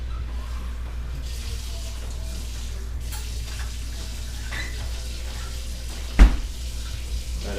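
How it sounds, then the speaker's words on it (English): Water runs and splashes steadily as sauce is flushed out of empty cans during cooking of Spanish chicken, a low continuous wash with one sharp knock near the end. "a lot of times I'll take the cans and just flush out the sauce that's in the cans"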